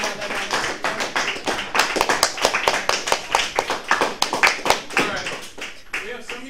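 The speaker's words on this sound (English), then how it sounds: "Yep, we got the single clap." Individual hand claps from a math class, sharp separate slaps in an irregular run that sometimes overlap, close and fairly loud, with background chatter from students.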